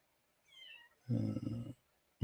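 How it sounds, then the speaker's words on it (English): A cat gives a soft, short meow followed by a louder, drawn-out meow, with a brief start of another sound at the very end. "I hear the cat"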